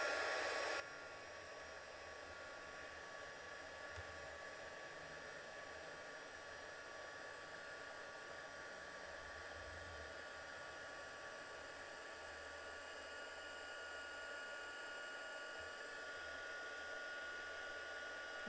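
A heat embossing tool blows hot air over a Christmas card, a steady whirring hiss of the fan heater running continuously and fairly close, with no talking over it.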